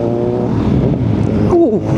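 A Kymco Xciting 400 scooter's 400cc engine revs hard under throttle, a loud, close, steady drone with rising harmonics and a quick pitch sweep near the end.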